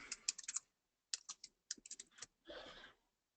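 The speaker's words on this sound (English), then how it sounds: "simply by typing an email" Fingers typing an email on a computer keyboard, quiet close-up bursts of rapid key clicks separated by short pauses, ending in a slightly longer clatter.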